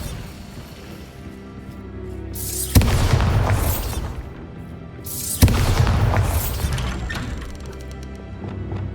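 Bombarda spell explosions in Hogwarts Legacy, two loud, deep booms a few seconds apart, each bursting suddenly and then rumbling off into a fading, crackling tail.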